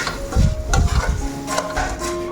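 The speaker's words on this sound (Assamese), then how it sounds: "এতিয়া মই লৰাই আছোঁ" Food with salt and turmeric stirred in a pan over a low gas flame, a close scraping and clinking of the spoon in irregular strokes with faint sizzling beneath.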